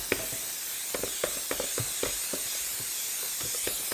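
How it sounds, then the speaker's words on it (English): Cooking spray misted onto a baking pan for a rhubarb sour cream cake, a series of short, close hissing bursts in an irregular rhythm over a steady faint background hiss. "we want to spray our pan there"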